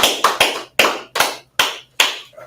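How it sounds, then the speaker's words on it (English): A class claps in unison in a slow, deliberate rhythm, with about seven sharp, loud claps close by, each ringing briefly before the next. "Clap up for class, man."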